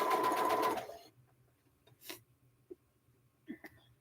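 A home sewing machine runs a fast, steady stitching burst on a t-shirt quilt for about a second, then stops. A few faint clicks and small handling knocks follow in near silence.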